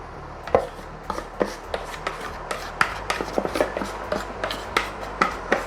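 Onions are chopped on a board with a knife in a kitchen, giving a steady series of close, sharp taps of varying strength and no speech.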